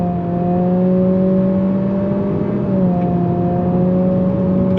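A 2023 Acura Integra with a CVT accelerates on throttle, a steady loud engine drone from inside the cabin with tonal whine that holds nearly constant pitch, dipping briefly as if shifting a simulated gear.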